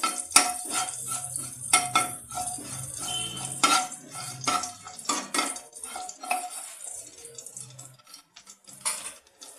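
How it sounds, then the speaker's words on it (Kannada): Cumin seeds fry in hot oil in a pan for ladies finger palya, stirred with a metal spoon that clatters and scrapes repeatedly against the pan over a soft sizzle, close and fairly loud, with no talking. "ಎಣ್ಣೆ ಬಿಸಿಯಾಗಿದೆ. ಇದಕ್ಕೆ ಸ್ವಲ್ಪ ಜೀರಿಗೆ, ಚೆನ್ನಾಗಿ ಹುರ್ಕೊಳ್ಳಿ."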